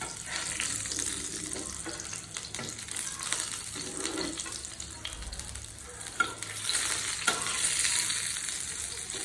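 Chilies and a hilsa fish tail frying in hot oil, a steady loud sizzle with crackling bursts that runs unbroken for the whole stretch, close to the pan.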